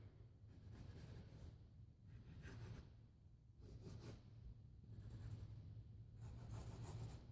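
A pen scratches on paper while a square is drawn, in four or five short bursts of crisp, close scratching separated by brief pauses, quiet and unaccompanied by talk.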